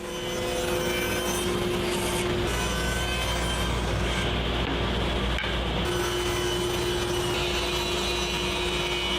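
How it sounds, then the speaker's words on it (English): A table saw rips wood pieces down to final dimensions in a home workshop, giving a steady loud whine with a constant hum throughout, and the pitch shifts slightly as the cut proceeds. "all the pieces were run over the table saw to bring them down to their final dimensions"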